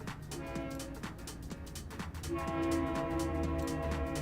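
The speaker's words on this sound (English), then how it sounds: "It is the train that is coming." A train rumbles past close by with a steady horn blaring over the rolling clatter of wheels, growing louder midway.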